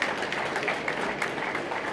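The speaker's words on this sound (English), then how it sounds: "We should give him a round of applause and the state for this" An audience applauds the governor at the launch of the Lagos produce guarantee fund, a dense, even wash of clapping that holds steady and fairly loud throughout.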